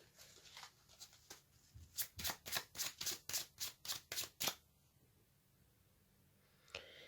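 Tarot cards are handled while an extra card is drawn from the deck: a quick run of about ten crisp, evenly spaced papery snaps in the middle, fairly quiet and close, with a softer flick near the end.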